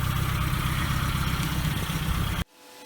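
A ZAZ Slavuta's engine runs steadily with a new Bosal exhaust fitted, giving a loud, even low rumble close by for over two seconds before cutting off abruptly into quiet.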